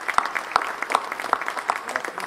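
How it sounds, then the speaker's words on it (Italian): A small audience gives scattered, uneven applause at the opening night of the Sole Luna Doc Film Festival in Palermo. The clapping is moderately close and brief. "dobbiamo iniziare con un applauso alla più palermitana di noi, che è Lucia Gotti Ventura."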